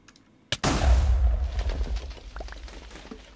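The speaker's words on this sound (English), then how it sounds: "I think I may have to detonate this C4." C4 charge detonated in an underground base in Minecraft: one sharp blast hits about half a second in, followed by a heavy booming rumble with scattered crackles that gradually fades over the next few seconds.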